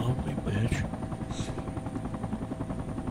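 Helicopter rotor in Battlefield 2: Project Reality on the Muttra City map, a fast rhythmic thudding chop that stays loud and close, with a couple of sharp sweeping whines early on.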